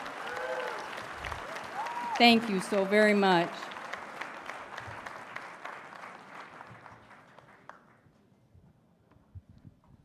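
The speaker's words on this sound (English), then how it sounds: "let's give her a big round of applause" Applause from an audience starts at once and fades over several seconds, while someone speaks briefly over the clapping.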